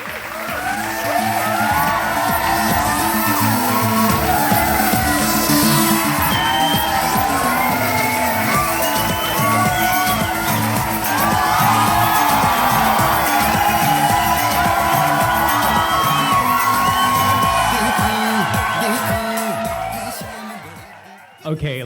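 Wedding reception guests applaud and cheer the newly announced couple, a loud, sustained roar of clapping, whoops and shouts filling a crowded room for about twenty seconds.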